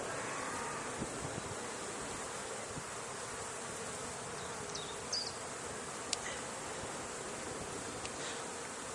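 A honey bee colony buzzes steadily at a beehive outdoors, a dense continuous drone with a few individual bees flying close past.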